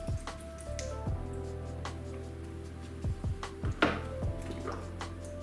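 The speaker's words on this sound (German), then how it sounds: "Als erstes kurz das Gerät reinigen, einfach auffüllen, ausspülen und auch mit der Bürste ausbürsten." Pool tester cuvette from an eXact iDip kit being rinsed and brushed with water, small drips, splashes and squishy brushing strokes over a low steady hum, close and fairly quiet.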